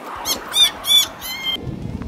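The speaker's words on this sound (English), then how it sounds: "And a lot of crows." Crows calling in a cemetery, four harsh cawing squawks in a quick, evenly spaced series, fairly loud and nearby over faint outdoor background.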